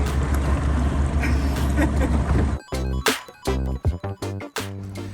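A motorboat engine roars steadily on the sea off Salento, Italy, with wind buffeting the microphone, then the engine noise drops and people talk over the remaining hum.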